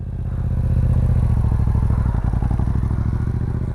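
A motorcycle engine revs steadily and pulls away as the clutch is gently released by a first-time rider, a loud continuous throb with rapid pulsing firing, close by and without speech.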